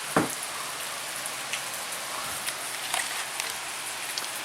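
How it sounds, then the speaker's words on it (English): Heavy rain downpour ahead of a thunderstorm, a steady, dense hiss of drops pounding surfaces close by, with scattered louder splats and no voices. "Maybe I'm gonna show you the downpour right now because it changed the direction, so look, enjoy the rain"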